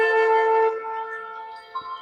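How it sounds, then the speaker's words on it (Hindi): A conch shell blows a loud, steady, rich droning tone that wavers slightly and fades, ending with a soft thump. "यहाँ पर शंख की ध्वनि भी सुन सकते हैं।"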